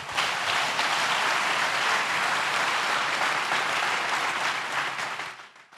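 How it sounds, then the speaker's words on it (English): A church congregation bursts into loud, dense applause for Jesus, sustained clapping that fills the room evenly before tapering off at the end. "Clap for Jesus."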